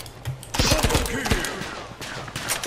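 Rapid bursts of gunfire in the Mini World video game crackle in quick succession, mixed with a voice talking over the shooting.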